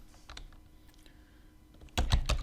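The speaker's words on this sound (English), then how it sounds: "I can type in" Clicks of typing on a computer keyboard, a few scattered keystrokes at first and then a quick, louder burst of close taps near the end, with no one talking.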